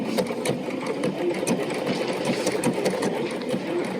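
A BERNINA sewing machine stitches with orange thread in a steady, continuous mechanical whir, close and moderately quiet, with a fast rhythmic needle pulse throughout and no talking.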